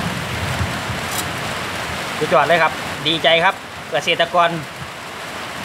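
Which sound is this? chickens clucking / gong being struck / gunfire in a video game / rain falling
rain falling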